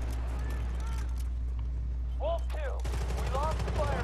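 Rapid gunfire and scattered shots from an online match of the video game Battlefield Bad Company 2 on PS3 crackle beneath a steady low hum, with brief voice-like sounds in the mix.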